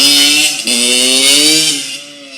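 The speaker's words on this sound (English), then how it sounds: "Alright, we're finna go full speed on the Yamaha yz85 dirt bike." Yamaha YZ85 dirt bike two-stroke engine revving, a loud, close, buzzing whine that climbs in pitch, dips briefly, then rises again and eases off.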